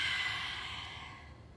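A single breath in a contemporary dance warm-up, heard close and breathy, strongest at the start and fading steadily over about a second and a half.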